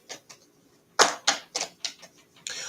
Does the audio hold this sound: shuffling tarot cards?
yes